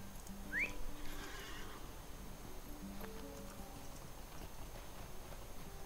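A horse neighs once near the start in The Lord of the Rings Online, followed by soft hoof clops and rustling under a low, steady game background.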